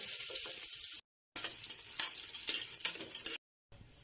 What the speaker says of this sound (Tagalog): Mag-gisa na tayo. Unahin natin ang bawang.